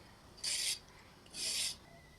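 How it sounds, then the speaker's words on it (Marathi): Two short raspy scraping strokes of a peeler running along carrots being peeled for traditional gajar halwa, close and quiet, spaced about a second apart. "आता आपण गाजराची सालं काढून घेऊ"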